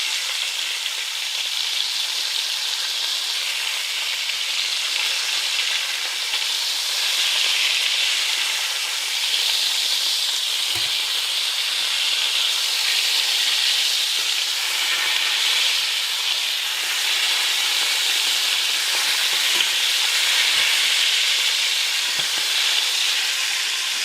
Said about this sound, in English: What I do is I move the liver around the bottom of the pan just to keep the surface area heat